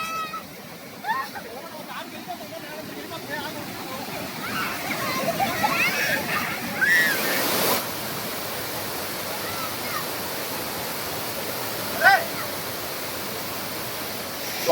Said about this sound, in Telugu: వాటర్ ఫాల్స్ అంత బాగుంది.